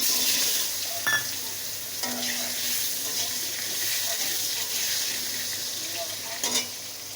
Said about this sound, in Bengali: এখন এই যে বেগুনগুলো কাটা আছে, বেগুনগুলো আমি ভেজে নেব।